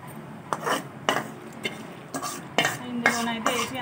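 Lemon rice (pulihora) being mixed in a bowl, a series of close scraping and clinking strokes of a spoon against the dish in uneven bursts, with no voice over it.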